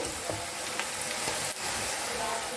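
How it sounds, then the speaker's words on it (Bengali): Onions softening in hot oil in a pan while cooking a Bengali jackfruit and prawn curry, a steady close crackling sizzle with a few faint clinks of stirring. "আর একটু ভাজতে হবে, পেঁয়াজগুলো আর একটু নরম হবে।"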